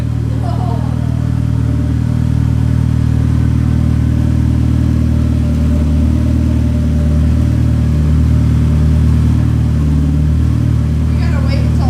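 A turbocharged Mazda Miata runs loud and steady right after its first start, with the deep engine rumble swelling and easing in mild revs for the whole stretch.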